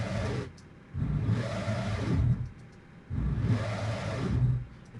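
A roar detuned with pitch shifters, raised two semitones, and thickened with chorus: two long, growling, rumbling swells separated by a brief dip. Each is loud and sustained, and there is no speech.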